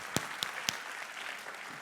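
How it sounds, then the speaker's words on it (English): Audience applause for students at a school golden jubilee celebration, a brief patter of claps with three sharper individual claps standing out early, then a softer, thinning spread of clapping. "A round of applause again, please."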